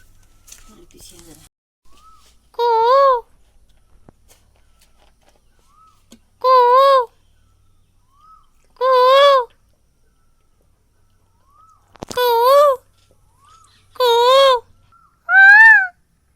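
An Asian koel calls faintly from a distance while a nearby voice answers with six loud, clear, rising whistled imitations of the bird, spaced a few seconds apart.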